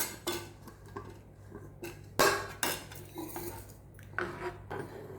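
A utensil scrapes and clanks against a metal pot of sambar with tamarind and mango in irregular stirring strokes, close by, with no voices.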